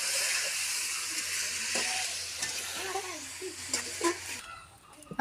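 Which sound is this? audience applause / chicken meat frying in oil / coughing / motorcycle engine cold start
chicken meat frying in oil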